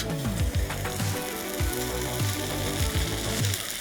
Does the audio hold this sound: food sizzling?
yes